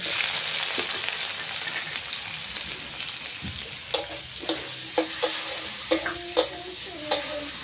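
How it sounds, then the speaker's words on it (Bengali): Tempering spices sizzle steadily in hot oil, and then onion goes in among them, bringing a run of sharp spoon-on-pan scrapes and clinks over the continuous frying hiss, close by, with no talk. "ফোড়নটা লাল লাল হয়ে গেছে, এবারে আমি পেঁয়াজটা দিয়ে দেবো।"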